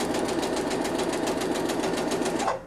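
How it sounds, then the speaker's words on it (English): Sewing machine running steadily while top stitching fabric with a specialty presser foot, its rapid even needle rhythm close and continuous, then stopping just before the end. "I am just going to put a top stitch on this fabric and just show you how awesome this foot is."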